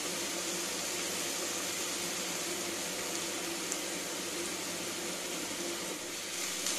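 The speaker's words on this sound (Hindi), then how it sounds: "आप जिंजर गार्लिक पेस्ट को डाल देंगे और फिर से अच्छी तरह फ्राई करते रहेंगे" Onions frying with ginger garlic paste in a pan, a steady, even hiss and sizzle that runs unbroken at low volume, with no talk over it.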